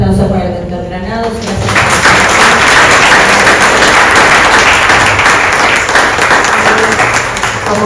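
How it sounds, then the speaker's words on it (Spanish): After a moment of someone speaking, a full, loud round of audience applause breaks out for a guest speaker at a literary talk and continues steadily to the end. "un fuerte aplauso para el doctor Granados."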